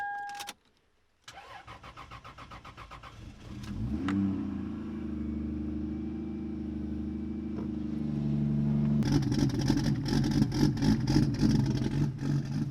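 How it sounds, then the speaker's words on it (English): A Lexus car engine cranking and catching after a battery swap, then settling into a rough, uneven idle, close and loud, the idle growing harsher and more pulsing toward the end, with no talking. "It usually idles a little bit rough. Once the temp kind of gets back to normal, it'll idle smooth again."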